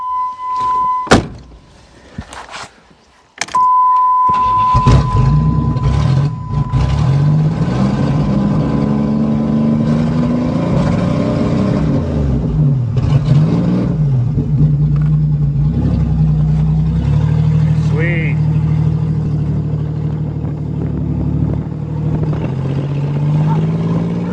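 A Buick Century car with a steady engine drone while driving, preceded by door clicks, a chime and a door closing, the engine running loud and close throughout with small shifts in pitch.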